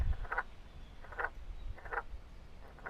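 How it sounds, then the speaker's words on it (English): A frog croaks outdoors in four evenly spaced short calls, moderately close, against a soft, steady background of ambient noise. "Oh, there's a frog over here."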